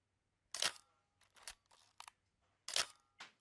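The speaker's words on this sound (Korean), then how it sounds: "셔터 소리가 너무나 좋아요" A Minolta X700 film camera fires its shutter several times, each release a crisp, close mechanical snap with a short whirring follow-through, with quiet gaps in between.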